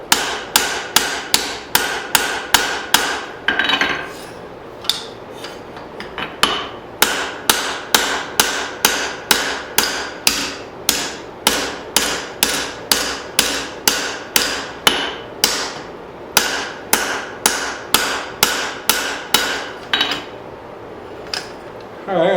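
A hammer forges a hatchet on an anvil with a long series of sharp, ringing, evenly spaced blows and a few brief pauses.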